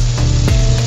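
Butter sizzling loudly in a pan for pan-seared salmon, a dense close hiss with a low bubbling rumble and brief spitting bursts, no talk.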